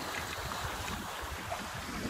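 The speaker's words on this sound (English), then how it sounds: "We've got a gust on at the moment." Wind gusts steadily over a small sailing boat at sea, a continuous broadband rush of moderate loudness with faint water movement beneath and no talking.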